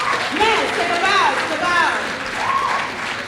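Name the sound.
audience applause for speaker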